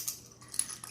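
A small magnet is picked up while assembling a taped envelope booklet, giving a few quick, faint metallic clicks and clinks close by, with no talking.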